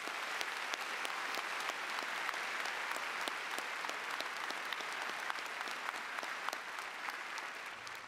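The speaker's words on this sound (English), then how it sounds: "Please give these students a round of applause." A high school audience gives a sustained round of applause for honored students, a dense even wash of many hands clapping steadily from a distance for about eight seconds, with no talking.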